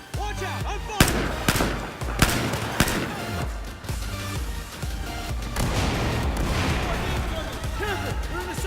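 Gunfire in a video game shootout, several sharp shots cracking out early on, then a dense, steady roar of battle noise, with voices talking over the action.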